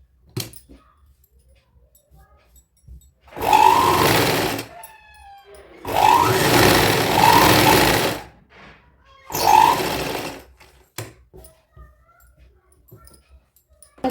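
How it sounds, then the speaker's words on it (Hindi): Sewing machine stitching the side seam of a midi dress for a 1–2 year old baby girl, three loud bursts of rapid whirring separated by quiet pauses, close up. "अब हम यहाँ से साइड से इसकी पूरी सिलाई इस तरह से इसको सेट कर लेंगे"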